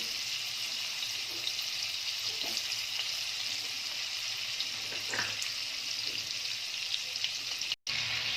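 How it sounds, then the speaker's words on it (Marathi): Butter melting in hot oil in a pan for pav bhaji gives a steady, even frying sizzle that stays close and continuous and ends in a brief cut near the end, with no talking. "आता ह्या तेलामध्ये बटर घालून घेणार आहे दोन चमच बटर घालणार आहे"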